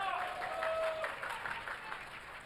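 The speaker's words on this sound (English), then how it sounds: "can we get one more round of applause" Applause from a live event crowd, steady clapping that fades slowly across a couple of seconds, with a faint tonal hum early on and some voices mixed underneath.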